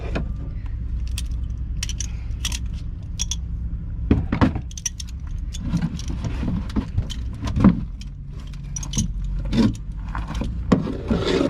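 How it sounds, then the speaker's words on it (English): Metal fasteners from a C3 Corvette body-to-frame mount are set down with scattered light metallic clinks and jangles among quiet garage noise, close and fairly soft. "Let me put my fasteners up here so I don't lose them."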